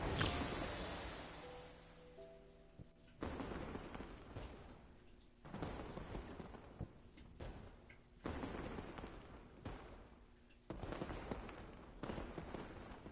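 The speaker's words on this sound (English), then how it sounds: "I gotta love the fireworks sound." Fireworks in the game Genshin Impact during a spring festival event go off as a series of crackling bursts and booms, roughly every two seconds, moderately loud and without speech.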